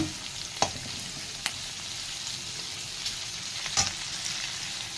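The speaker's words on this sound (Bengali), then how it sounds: "তারপরে যে মাছগুলো নেড়ে নিচ্ছি" Fish stirred in a pan of hot oil with chili, onion and panch phoron, a steady dense sizzle with a few sharp utensil knocks, close and without talk.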